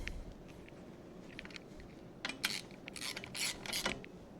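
Metal hose clamps being snugged down by hand tool on a DT-466E diesel engine during a rebuild, giving faint scattered scraping and ratcheting clicks that grow into a few brighter rasping bursts near the end.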